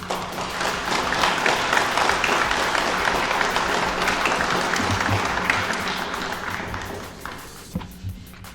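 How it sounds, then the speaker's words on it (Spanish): Dense, steady applause from a large audience welcomes Bolivian President Luis Arce at a ceremony installing a new military high command, holding even for several seconds before thinning out near the end. "Lo recibimos con un fuerte aplauso."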